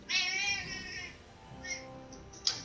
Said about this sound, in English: So that was my cat.